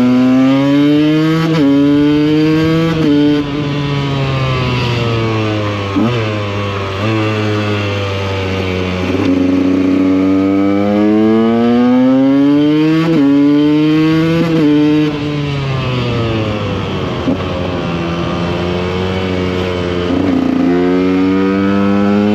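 Onboard sound of KTM EXC and Beta RR supermoto motorcycles practicing wheelies: a loud, close engine drone that repeatedly climbs and drops in pitch through gear shifts and throttle changes, steady throughout with no talking.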